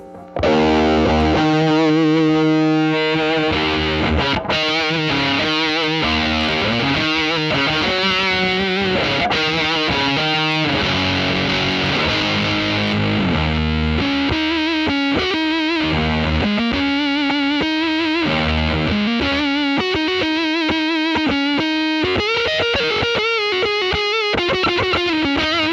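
Electric guitar on the neck pickup cranked through a JHS PackRat distortion pedal with filter and drive maxed, roaring in dense, sustained distorted chords and riffs, loud and continuous without any voice.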